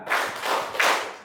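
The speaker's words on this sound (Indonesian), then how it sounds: "Tepuk 3 kali jadi kita coba." Audience clapping in a school socialisation session, a few quick bursts of claps from a group, near and fairly loud, with no talking over it.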